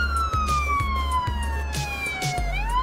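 A wailing ambulance siren sweeps steadily downward, then rises again near the end, heard in the Police Simulator game over a low rumbling engine and traffic, loud and close with no talking.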